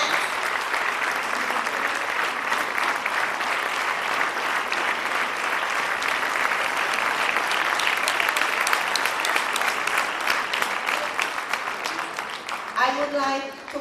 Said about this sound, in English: Let's give them a big round of applause for sharing this beautiful moment with your friends.